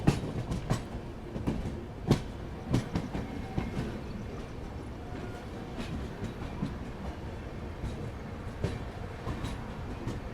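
An Indian Railways train pulling into Jasidih Junction at night, with a steady rumble of wheels and rattling carriages marked by repeated clickety-clack joints and sharp metallic knocks close by.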